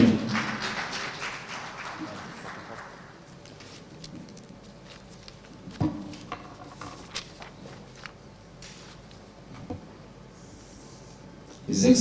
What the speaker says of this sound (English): Please let's clap for him properly.